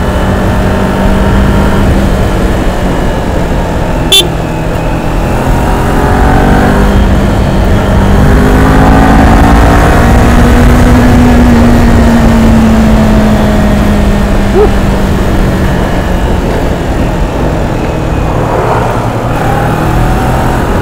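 A 2021 Kawasaki Ninja motorcycle engine runs steadily up close, loud and rumbling, its revs rising and easing slightly.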